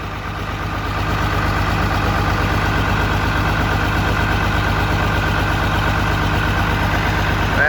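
International 756 tractor engine running steadily after an engine swap, a close, loud, evenly pulsing diesel idle that builds up in the first second and then holds a constant rhythmic chug.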